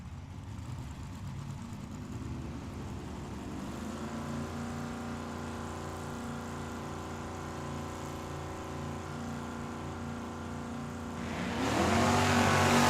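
Mopar and red Camaro drag race cars at Tucson Dragway, a deep engine drone that builds steadily, then swells louder toward the end as the cars launch, heard from trackside with no talk.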